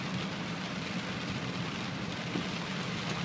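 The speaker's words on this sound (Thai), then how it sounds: "วันนี้ ฝนตกหนัก ฝนตกหนักครับ" Heavy rain pours down in a dense, unbroken hiss over flooded roads in Thailand, steady and enveloping throughout with no voices.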